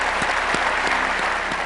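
Applause for World War II veterans: a dense, continuous crowd ovation, steady and fairly loud, with a few sharper claps standing out.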